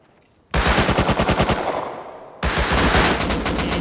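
Automatic gunfire in the survival game Rust, a rapid burst of loud, closely spaced shots, a brief pause, then a second sustained volley at full intensity.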